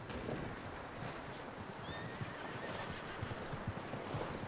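A horse in Red Dead Redemption 2 whinnies while its hooves clop in a steady walking rhythm, fairly quiet against soft game ambience.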